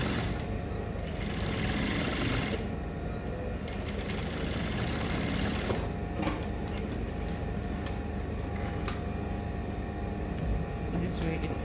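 A sewing machine top stitches the pocket bar of culottes, its motor running in a steady fast whir through most of the stretch with brief pauses and small clicks.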